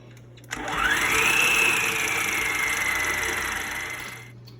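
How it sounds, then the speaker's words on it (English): An electric mixer whirs up to speed while creaming butter and sugar for cookies, holding a steady motor drone with a rising whine for about four seconds before it winds down. "we are going to continue creaming"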